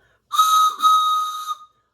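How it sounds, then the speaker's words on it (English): At a children's storytime, a shrill whistle is blown twice in quick succession, a short blast then a longer one, loud and close. "I've got my whistle."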